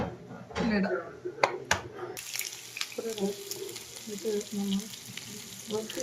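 Mustard seeds sizzling and popping in hot oil for tempering, a crackling fry heard under people talking, with a few sharp clatters early on.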